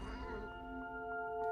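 A short, drawn-out cat meow in What Remains of Edith Finch, tonal and steady, over a soft background hum.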